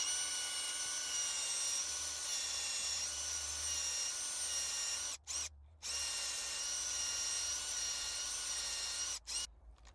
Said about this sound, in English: So let's go on ahead and just drill into this tree.